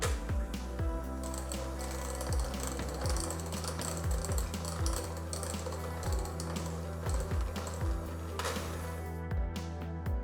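A hand or stand electric mixer briefly stirs grated milk chocolate into a cream base for a gluten-free Eskimo ice-cream cake, with a steady motor hum and repeated whirring, clicking beater strokes close up throughout.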